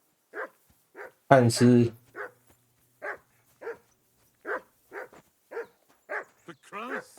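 A dog gives a loud, sharp burst of barking partway through, close by, surrounded by steady talk from several people before and after.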